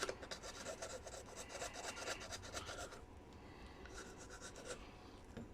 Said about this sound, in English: A nice triangle file which looks nice and aggressive.